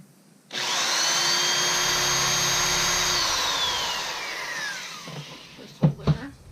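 A power drill pre-drills a hole for joist holders on a bed frame in a van build. Its loud, steady whine runs about four seconds, then winds down, followed by a couple of sharp knocks.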